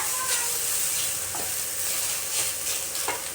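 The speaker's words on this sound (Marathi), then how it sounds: "पहिले आहे ना तुपातच छान भाजून घ्यायचे" Carrots stirred and roasted in ghee for carrot halwa, a steady close sizzle with a few soft spoon scrapes through it and no voices.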